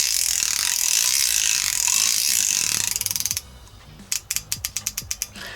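A Stanley limited edition socket set ratchet with an R and L direction adjuster clicks close by, first as a rapid buzzing run and then as slower, separate clicks over a noisy background.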